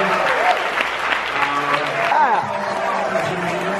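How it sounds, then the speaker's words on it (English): An audience at a hypnosis stage show applauds its volunteers, a loud sustained burst of clapping with voices and whoops mixed in and someone speaking over it. "ladies and gentlemen, give your volunteers a massive round of applause"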